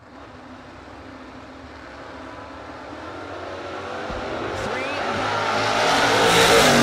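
Drag race between a Chevy Nova and a third-generation Camaro at a no-box event, engines roaring and building steadily louder as the cars approach, with a faint announcer voice underneath.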